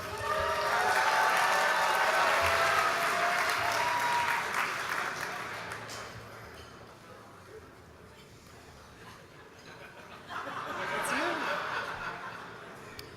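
Graduation audience applauding and cheering in a hall, loud and sustained at first, then fading to a softer patter before a brief swell near the end, with some laughter mixed in.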